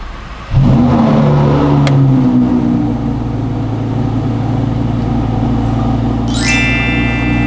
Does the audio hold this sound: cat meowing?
no